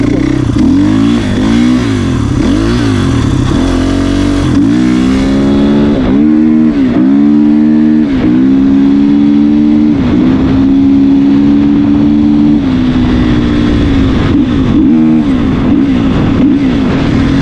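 A 450 motocross bike revs hard and loud throughout, its engine note rising and falling in repeated surges as the rear wheel spins and smokes.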